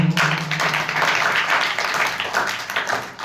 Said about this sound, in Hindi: इसके लिए भी ताली बजाओ।